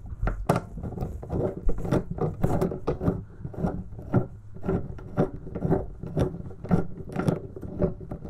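Inside a van during bulkhead and headliner removal, a Torx screw is turned with an Allen key levered by a ring spanner, giving close repeated metallic ratcheting clicks and scrapes in an uneven rhythm, with no talking.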